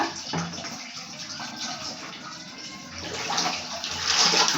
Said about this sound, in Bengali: জল দিয়ে নিজের ইচ্ছে মতো খেলা খেলা করছে